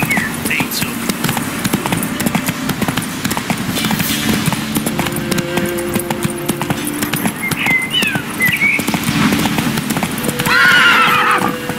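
Roach, a horse in The Witcher 3: Wild Hunt, whinnies several times and clip-clops steadily along, with a louder neigh near the end, heard beneath game ambience, music and occasional voices.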